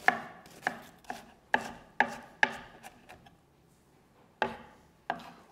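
A knife chops onion on a cutting board in a sharp, uneven series of crisp taps, roughly eight strokes with a pause in the middle. Each tap rings briefly with a woody knock, close and clear with no voices.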